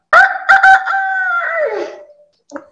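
A person imitates a rooster crowing, a loud, close, drawn-out cock-a-doodle-doo with a few sharp opening bursts and a falling tail, then a short faint follow-up note.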